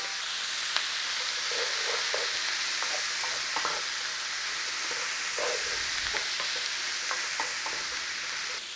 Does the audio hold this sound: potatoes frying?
yes